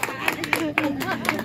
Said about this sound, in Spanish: aplausos para la dueña de la fiesta